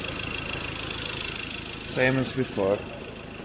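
A Ford Ranger 2.2 diesel with a misfire under load idles in a steady, close, throbbing drone, while someone briefly speaks over it partway through.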